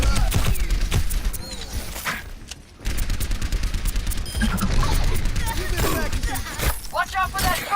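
An enemy turret in the game Overwatch fires in rapid bursts of dense gunfire with crackling impacts, nearly continuous apart from a short lull, while voices call out over the shooting.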